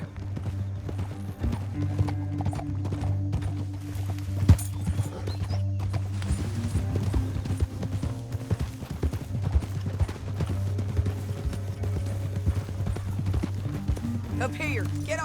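Steady clip-clopping horse hooves in Red Dead Redemption 2 trot on through a canyon ride, with a snort or whinny, scattered distant gunfire and characters talking over the rhythm.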